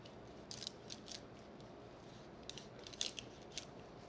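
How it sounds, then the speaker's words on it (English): A large knife cuts through fish bone while filleting, giving a few sharp crunching snaps spaced irregularly over a low steady background, close and fairly faint. "I'm cutting through bone, and if you listen"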